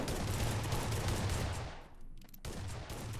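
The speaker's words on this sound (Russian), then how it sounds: "Кто-то прям там шмаляет." Rapid bursts of gunfire from the mobile shooter game Sausage Man, dense and continuous, briefly dropping out before resuming with no talk over it.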